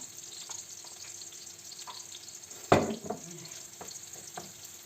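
Chopped onion sizzles steadily in about 50 ml of hot oil in a frying pan, with a sharp clatter partway through as a utensil stirs the pan.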